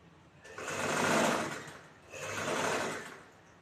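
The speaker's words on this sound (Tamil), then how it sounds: "துணியை திருப்பி தைக்கிறோம்" A sewing machine runs in two steady bursts while stitching a blouse neckline, the fabric turned between them; the motor whir is close and fairly loud, with no talking.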